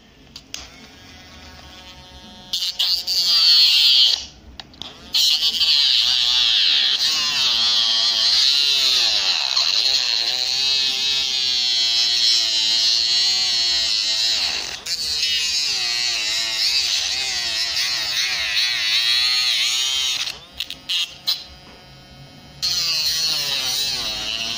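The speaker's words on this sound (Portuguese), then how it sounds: "Vocês viram, ele cortou o pedaço de plástico" Homemade 12V mini rotary tool built from PVC, fitted with a cutting disc and slicing through a piece of plastic, gives a steady high-pitched whine that dips and strains as it bites, close and continuous for about twenty seconds.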